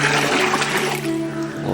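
Five litres of water poured out for a homemade NPK fertilizer made from kitchen waste, a steady close gushing stream that runs unbroken the whole time.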